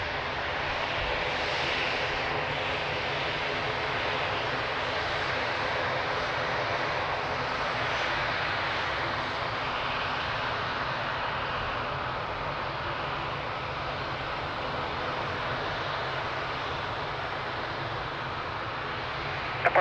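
A fixed-wing airliner lands at Lisbon Airport, its engine roar loud and steady, close by and broadband, sustained for the full stretch with no voices over it.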